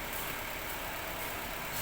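A car engine held at a steady 1500 rpm during an air-conditioning gas refill, a continuous even hum with broadband hiss, close and constant throughout.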